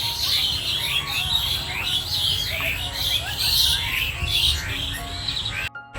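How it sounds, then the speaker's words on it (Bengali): Many birds call and chirp together in a garden at dusk, a steady busy chorus of high tweets and trills close by that cuts off abruptly at the end. "ওইখানে কোথায় পাখি বসে আছে"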